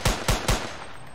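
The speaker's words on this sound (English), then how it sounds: "I just shot him" Three sharp, loud gunshots fire in a quick, evenly spaced burst inside an Unreal Engine 4 first-person shooter, each crack followed by a short decaying tail before the sound falls quiet.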